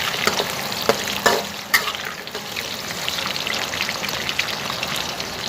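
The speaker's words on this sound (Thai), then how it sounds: "หอมใหญ่เนี่ยลงมา เพราะว่า ลวกน้ำมันก่อนนะครับ" Three-colour bell peppers and onion flash-fried in hot oil for a stir-fry of offal with black pepper, a dense rain-like sizzle with a few sharper bursts near the start, steady and fairly close.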